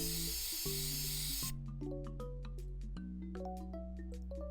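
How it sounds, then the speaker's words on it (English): An aerosol can sprays gloss clear coat onto the halves of a 3D printed Pokéball, a close, hissing burst for over a second, followed by quieter clinks and tonal sounds. "I give both halves a coat of gloss clear coat"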